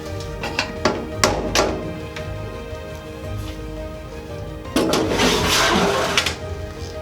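Ash drawer slides out of a black Galia exposed wood-burning fireplace with convection oven, several close knocks and thunks followed by a longer metallic scraping rattle as it is pulled free.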